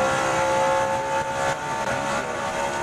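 NASCAR stock cars at the 2006 Auto Club 500 roar past in a loud, sustained engine drone with a high whine, rising and easing as the pack sweeps by.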